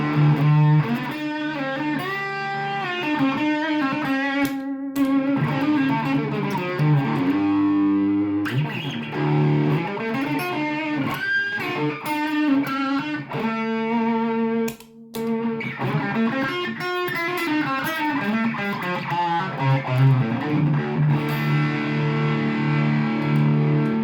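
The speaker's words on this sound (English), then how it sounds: "It's a 78 Distortion Plus." Electric guitar played through a 1978 MXR Distortion Plus pedal, with sustained, heavily distorted chords and melodic lines ringing loud and continuous, with a brief pause midway.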